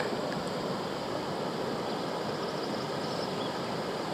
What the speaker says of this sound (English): a little river with a nice little waterfall, kind of several cascading waterfalls